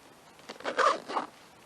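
A zipper on a solar oven is pulled shut in a couple of quick, close rasping strokes, fairly faint, with no voices.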